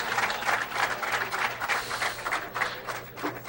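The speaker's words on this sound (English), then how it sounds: "Crowd applauds and it's approval" A crowd at a 1996 senior 9-ball pool championship applauds in an even, sustained patter of clapping that swells slightly, heard alone at moderate volume.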